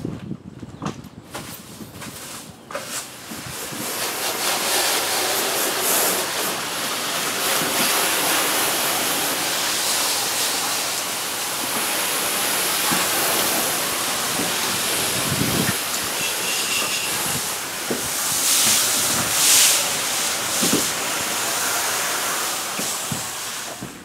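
A water spray rinses out a horse trailer, with a loud continuous hissing rush and a few knocks and footsteps mixed in.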